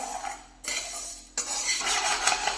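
Sorghum grains roasting in a metal pan are stirred with a utensil, giving scraping and rattling clatter broken by brief pauses, fairly quiet and close, with no talking.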